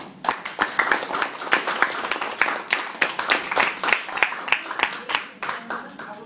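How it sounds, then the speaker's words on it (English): An audience at a Toastmasters club meeting claps in a dense, continuous round of applause lasting several seconds, fairly close and even in volume, with voices mixed in underneath. "I would like to invite you to join me to give the ESCO a round of applause."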